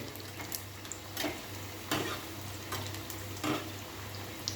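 Potato and pointed gourd pakoras fry in oil over medium heat with a steady soft sizzle, broken by a few close scraping and turning sounds and no talk.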